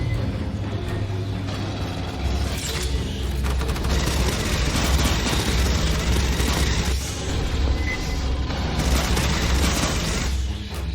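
A deployed sentry gun in Aliens Fireteam Elite firing sustained, dense automatic bursts amid booming combat noise, loud and continuous for the whole stretch.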